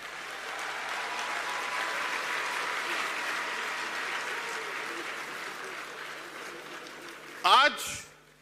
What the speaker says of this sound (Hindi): अगर ताली मारनी है तो जोर से मारिए।